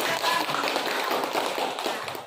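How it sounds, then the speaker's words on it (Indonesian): Students clapping in a seventh-grade science classroom, a brief burst of scattered hand claps at moderate level, somewhat muffled and tapering off at the end. "Bagus, tepuk tangan."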